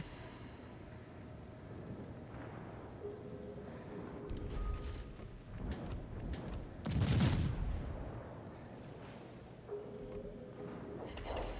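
Naval guns fire in the World of Warships video game, with several loud rumbling salvos over steady engine and water noise, the heaviest burst coming near the middle.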